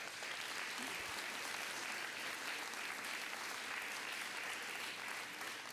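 An elementary school audience at a D.A.R.E. graduation applauds students' essays with a soft, even, continuous rattle of clapping that holds a steady level throughout and is heard somewhat distant.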